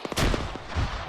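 Gunfire during military company training: a heavy, booming outdoor blast that rumbles and echoes for about a second, with no speech.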